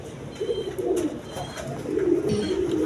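A pair of pigeons, one exhibition bird and one beauty bird, coo steadily up close in a low murmuring rhythm, the calls overlapping continuously throughout with no talk.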